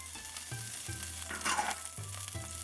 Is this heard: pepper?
yes